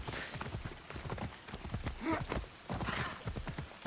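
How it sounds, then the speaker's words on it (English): A flaming magma horse gallops in Assassin's Creed Odyssey, its rapid clip-clop hoofbeats beating steadily at moderate distance over faint game ambience. "No one noticed the flaming magma horse."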